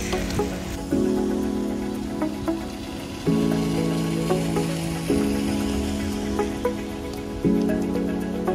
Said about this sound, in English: As I was leaving the museum, the heaviest rainstorm of 2023 began in Belgrade.